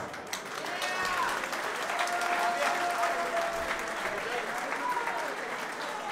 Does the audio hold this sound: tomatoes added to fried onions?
no